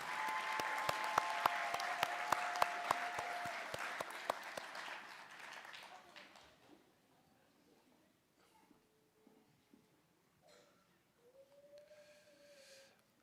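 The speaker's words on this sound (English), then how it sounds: "Let's give this group a round of applause as they receive their pins." At a nursing graduation ceremony, the audience claps as graduates receive their pins, loud dense applause that fades to quiet after about six seconds, followed by faint scattered sounds and a short voice.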